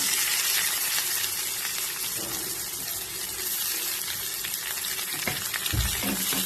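Onions frying with garlic in a pan for a drumstick stir-fry, a continuous close hiss of oil with occasional stirring clatter and scrapes, no talk.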